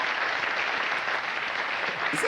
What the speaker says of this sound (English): the women clapped at the premise, and the men clapped at the punchline